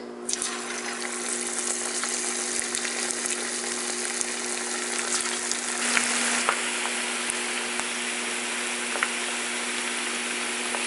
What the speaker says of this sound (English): When the oil is hot, carefully drop the marinated chicken into the hot oil.